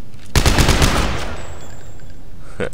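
A burst of rapid gunfire in the sci-fi horror game Dead Space 3, a loud, close string of quick shots lasting under a second, then a ringing tail and a faint click.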